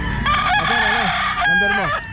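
Roosters at the Grotto pet market crow loudly and close by, two drawn-out cock-a-doodle-doo calls in quick succession, with faint clucking and background noise around them.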